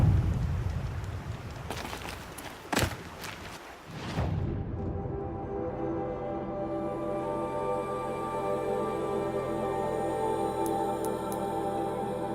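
Rain falls in the video game Horizon Zero Dawn as a steady broadband hiss with a few sharp bursts early on. Partway through it fades under sustained tonal music and ambience.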